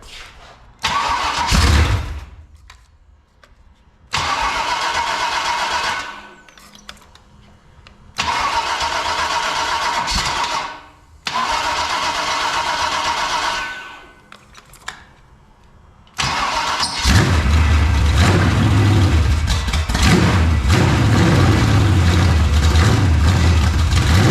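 An old 1937 Chevrolet sedan engine cranks in several long bursts of starter grinding, then catches and settles into a loud, rumbling idle.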